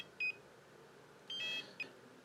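Anchor drift alarm on a Humminbird 597ci HD fish finder GPS unit: three short, high electronic beeps, the middle one slightly longer, faint and alone over a low background hiss.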